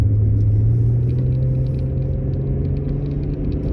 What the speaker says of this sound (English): And just hear the rumble of that V6 engine.